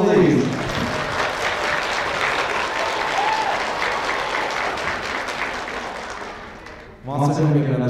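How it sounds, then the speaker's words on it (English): A winter school concert audience of elementary and high school band and chorus families applauds steadily and loudly for several seconds, a dense wash of clapping that fades before voices and a brief shout break in near the end. "can you give your parents a round of applause"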